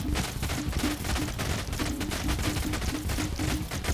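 Rapid, dense bursts of explosive revolver fire erupt around a character in the game Echoes Of Red, a loud, continuous barrage of overlapping blasts with no pause across the stretch.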